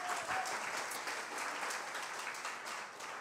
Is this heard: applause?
yes